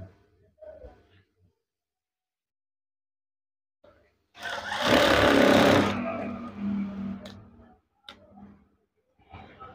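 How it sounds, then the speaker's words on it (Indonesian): A sewing machine stitches curtain fabric in a short, steady motorized burst of about two seconds, close by, framed by quiet handling noises before and after. "Kemudian jahit."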